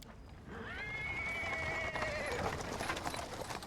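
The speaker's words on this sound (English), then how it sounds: "He's interrupted by the sound of wheels rolling on the paving stones. A cart drawn by a sad little horse." A sad little horse whinnies loudly in Pathfinder: Wrath of the Righteous, a long wavering neigh close by, with clip-clopping hooves and cart wheels rolling on paving stones underneath.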